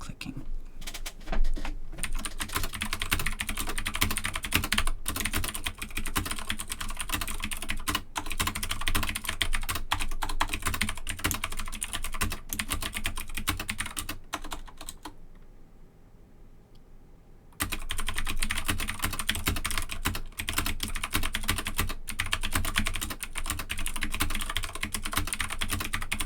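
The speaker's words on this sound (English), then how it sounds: "I bid you a farewell with the sounds of typing and keyboard clicking." Computer keyboard typing and key clicking run steadily and close for a long stretch, dense and unbroken apart from one brief pause near the end, with no talk over it.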